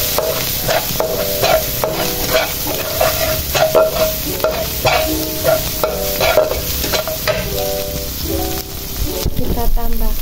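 Seblak with noodles and egg is stirred in a frying pan, with loud continuous sizzling and rhythmic scraping and clattering of the spatula against the pan, close up and mostly on its own.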